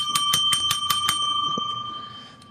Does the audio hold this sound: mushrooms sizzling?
no